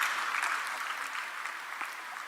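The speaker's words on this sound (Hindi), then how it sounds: "श्री एकांत जैन जी के लिए जोरदार तालियां स्वागत करेंगे उनका भी" Steady audience applause at an award ceremony in Bhopal honouring UPSC achievers. A dense, continuous wash of clapping hands runs throughout at moderate level and feels spread across a large hall.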